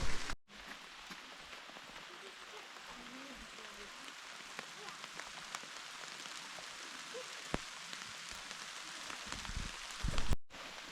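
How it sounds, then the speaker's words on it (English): Rain falling in the Quinault rain forest of Olympic National Park, a steady soft patter on leaves and surfaces throughout, with scattered louder drips and faint voices in the background. "Can't feel the rain at all, can you?"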